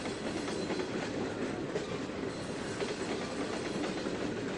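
Train rolling along track in Trainz 2022 simulation, a steady continuous rumble with faint rhythmic clatter of wheels, heard alone and fairly close throughout.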